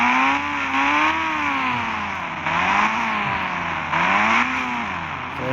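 Motorbike engine in a 3D bike video game, revving continuously with rising and falling pitch sweeps, loud and synthetic, repeating in waves with no talk.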